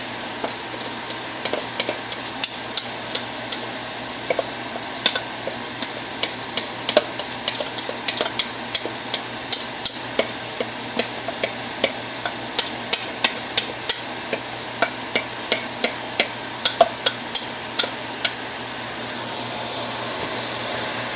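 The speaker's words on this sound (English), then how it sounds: "this technique I called stabbing the rice, just gently up and down motion to make the rice submerge in liquid" A utensil jabs up and down into rice sitting in liquid inside an Instant Pot, making a long run of evenly spaced, sharp wet taps over a faint background fan hum, with no speech.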